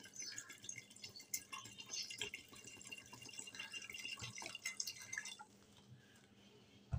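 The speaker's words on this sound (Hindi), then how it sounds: "मैं इसमें 2 ग्लास जितना पानी डालूंगी।" Water pours into a pressure cooker holding soaked chickpeas, a steady close splashing and trickling stream with faint clinks, lasting most of the moment before tapering off.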